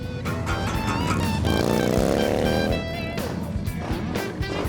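Motorcycles at a bike night gathering in Memphis, several engines rumbling and revving nearby in a loud, crowded mix, with one bike winding up in pitch partway through.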